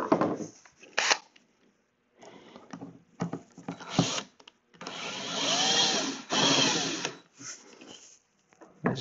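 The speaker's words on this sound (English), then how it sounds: "we're going to put two screws back in" Screws being driven back into the cabinet of an Alto Pro TS308 active speaker during a repair, heard as several bursts of whirring, grinding drill noise with short pauses between them, close by and fairly loud, with no talking.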